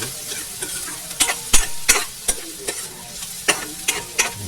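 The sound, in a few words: garlic frying in a pan for pork adobo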